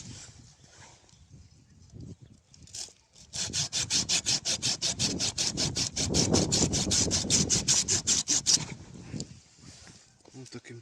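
A hand saw cuts through a grapevine trunk near ground level with a fast, even back-and-forth rasp that runs about five seconds, with someone talking briefly before and after.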